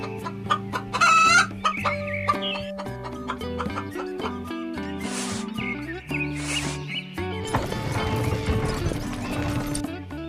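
A hen clucks among farmyard sound effects, including a rooster crow, for a toy cow, pig and chicken farm diorama, heard over bright background music.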